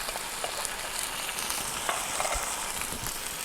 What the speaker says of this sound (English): Kidney beans and the juice into the pan.